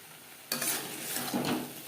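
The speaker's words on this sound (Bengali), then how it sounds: "মশলার সাথে পেঁয়াজ কলি বেশ ভালো করে মিক্স করে দেব" Onion stalks tipped into spices in a pan bring a sudden burst of sizzle, followed by stirring and steady frying.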